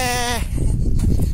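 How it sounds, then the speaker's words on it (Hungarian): Young goats bleat loudly in a wavering, harmonic cry that cuts off after a moment, followed by shuffling and rustling noise on a high mountaintop pasture near the Zalongo monument in Greece. "Itt jönnek a kis kecskék"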